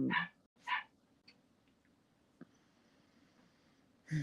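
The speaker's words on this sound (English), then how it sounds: "And Doggy says, "Feed me soon," but that's a little early." A dog gives two short, fairly loud barks close together at the start and one more at the end, with a quiet indoor room in between.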